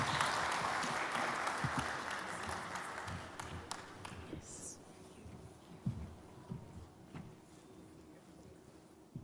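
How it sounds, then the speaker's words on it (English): An audience applauds after a speech at a Merck Foundation First Ladies event, a full burst of clapping at first that thins out over a few seconds into scattered claps and room noise. "A round of applause again"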